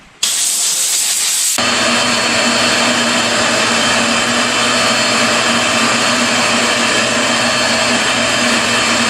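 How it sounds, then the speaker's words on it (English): A sudden loud, steady whooshing hiss starts after a brief moment and runs on continuously, like a vacuum or air blower running close by, cleaning out a car's drip rail in a garage. "Blow this out, use a vacuum on it, wipe it down."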